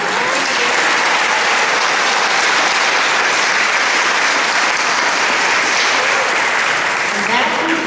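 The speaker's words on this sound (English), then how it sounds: "Let's give these wonderful young ladies another round of applause." Sustained, loud applause from a pageant audience for the contestants, steady dense clapping throughout with some crowd voices mixed in.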